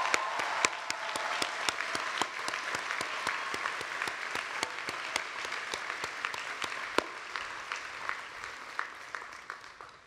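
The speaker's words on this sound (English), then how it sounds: "Can we give both of our student speakers just one more round of applause?" Audience at a university commencement ceremony claps in a sustained, dense round of applause lasting about ten seconds, holding steady and then easing slightly toward the end.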